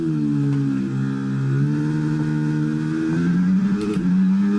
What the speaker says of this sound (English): Bit of tyre spinning coming out of that corner.